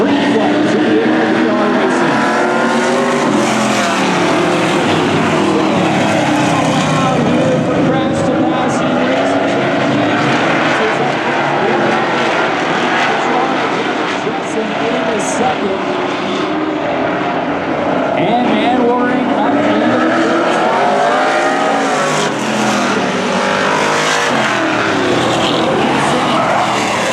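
Race trucks roar off at the green flag of a heat race on a short track, a loud, dense wall of engine noise that surges and swells continuously, with tire squeal mixed in throughout.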